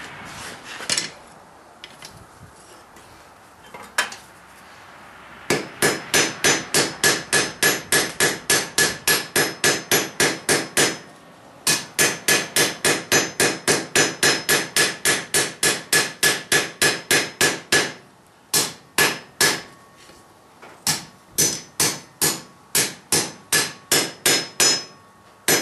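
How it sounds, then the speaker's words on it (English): Steel hammer blows shaping the reins of forged blacksmith tongs on an anvil, sounding as rapid, evenly spaced metallic strikes in long bursts with brief pauses between, close and loud with no talking. "before I rivet them together, I'm going to shape these reins and take the sharp edge off of them."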